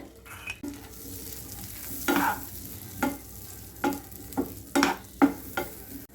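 Sweet corn fries in melted butter in a pan with a steady low sizzle, while a spoon scrapes and stirs in several distinct, close strokes. No one speaks.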